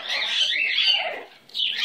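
Liberty, a small pet bird, gives a bright, close chirping call that runs continuously and then breaks off with a short pause before one last burst of chirps.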